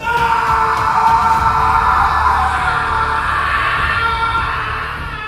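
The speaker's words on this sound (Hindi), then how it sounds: "वह बहुत जोर से चिल्लाया।" A man screams loudly after being stabbed in the back inside a cave in a Hindi horror audio drama, a long raw yell that holds strong before slowly fading near the end.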